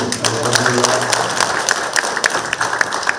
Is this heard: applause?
yes